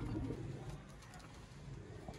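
Sialkoti pigeons coo softly in a loft, low faint calls repeating over quiet background noise with no one speaking.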